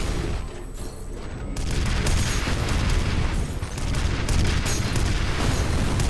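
Enemy rocket launcher blasts in the shooter game F.E.A.R., a dense run of loud booming explosions and crackling gunfire that rolls on continuously with brief dips, close and heavy.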